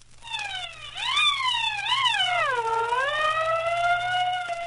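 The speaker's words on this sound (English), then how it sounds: "I blew my siren." A small fire engine's siren wails nearby, rising and falling in two quick swoops before settling into a long descending tone over a low steady hum, with no voices.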